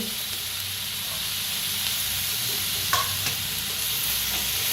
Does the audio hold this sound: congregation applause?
no